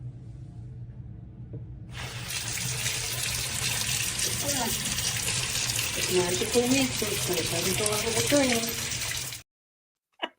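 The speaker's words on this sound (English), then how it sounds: "you cut the noodle and you divert the water so it can go closer and the kids don't get soaked" Water runs steadily from a faucet through a cut pool noodle, a broad rushing splash that lasts about seven seconds and then stops abruptly. Voices talk over it partway through.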